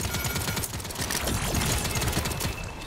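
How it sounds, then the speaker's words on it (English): Enemy gunfire rattles in a player-versus-environment video game, with dense, rapid bursts of shots and impacts mixing with battle noise, continuous and fairly loud. "Enemies are firing on me"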